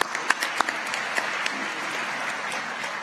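An audience at a university investiture ceremony applauds the wind symphony, a dense, even roar of clapping that holds for the full stretch, with a few sharper individual claps standing out near the start.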